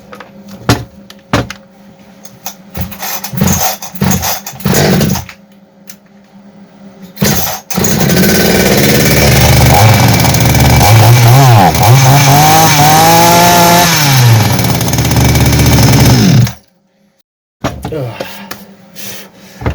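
A Kitprom chainsaw with a clutch that keeps working loose pulls over with a few short bursts, then catches and runs loud and steady for about nine seconds with rising and falling revs before cutting off abruptly.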